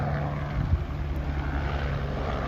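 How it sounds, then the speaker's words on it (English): A helicopter flies overhead above a residential street, a low steady rotor drone that stays fairly faint and constant with no talk over it. "Sorry about the sound. That helicopter is..."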